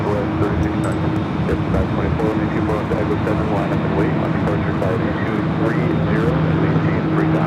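A Qatar Executive jet at Los Angeles International Airport gives off a loud, continuous roar that holds steady throughout, with people talking over it.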